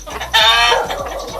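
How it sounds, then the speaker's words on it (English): Chickens clucking close by in Ilocos Norte, Philippines, with a louder burst of fowl calls mid-clip over a low, steady background hum. "More chickens."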